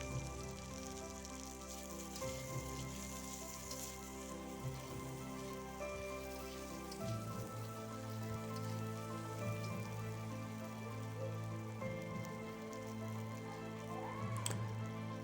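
Okra frying in tempered oil in a home kitchen, a faint, steady patter of sizzling bubbles with occasional soft crackles, heard close and quiet with no voices over it.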